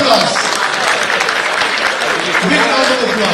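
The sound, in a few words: audience applause at awards ceremony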